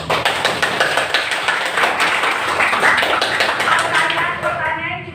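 A classroom of students breaks into sustained applause, many hands clapping in a dense, continuous patter while voices carry on over and under it.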